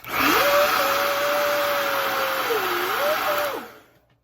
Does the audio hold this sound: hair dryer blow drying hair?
yes